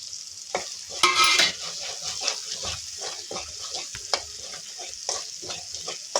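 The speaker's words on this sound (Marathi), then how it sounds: "हे वाटलेलं वाटण आपल्याला तेल सुटेपर्यंत परतून घ्यायचे चांगलं 2 ते 3 मिनिटांसाठी" Ground spice paste sizzling in hot oil in a wok for paneer khima bhaji, with steady frying crackle and repeated scraping stirs of a spatula, close and alone without talk.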